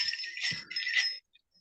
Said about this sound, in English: Christmas bells.